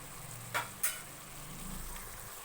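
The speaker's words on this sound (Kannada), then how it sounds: "ನಾನು ಮಟನ್ನ ಒಗ್ಗರಣೆಲೆ ಬೇಯಿಸ್ಕೊತಾ ಇದ್ದೀನಿ" Mutton cooking in a spiced oggarane tempering for mutton sambar, a faint steady sizzle with two brief sharp clinks of a utensil against the pot early on.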